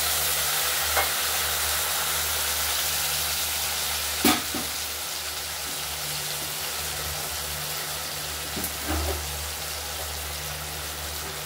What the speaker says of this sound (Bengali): আলুগুলো ভাজা হয়ে গেছে, এবার মশলাটা দিয়ে দিলাম।